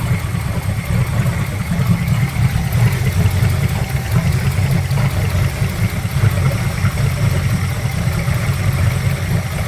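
A car engine idles with a steady low rumble and then revs, the throb holding constant and close with no talk over it.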